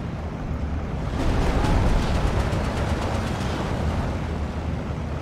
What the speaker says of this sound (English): 10 100 kilogram bombs for the IL-4.